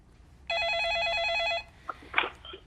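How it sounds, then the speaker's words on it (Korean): A telephone rings once for an incoming viewer call on a Korean stock-market broadcast: a loud, steady electronic trill that lasts about a second and stops abruptly, followed by faint clicks and short handling noises. "그 사이에 걸려온 전화 받겠습니다."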